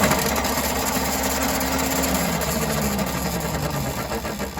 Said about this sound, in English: this motor does not sound like it's brushless